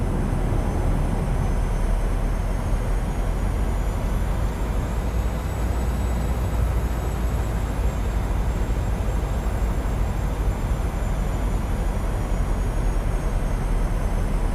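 A simulated airliner on landing approach in Microsoft Flight Simulator 2020 gives off a steady, loud, unbroken roar of engine and wind noise, with no voices over it.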